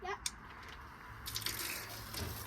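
Water from a submersible pump in a garden barrel spills out the end of a hose in a faint, steady splashing gush with a few brief louder bursts, heard close but quiet.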